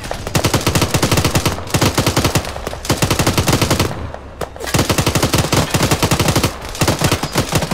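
Arma 3 machine gun fire roars in long, loud, close bursts of rapid shots, broken by short pauses between strings, with no talk over it.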